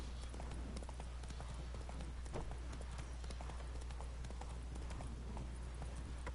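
Horse trotting in a PS4 video game, a steady run of clip-clop hoofbeats carried over a constant low engine-like hum and broadband noise, moderately loud and continuous, with no clear talk over it.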